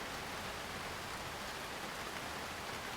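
Rain pouring steadily in a film scene, an even hiss of falling water that stays constant and moderately quiet, with no talk.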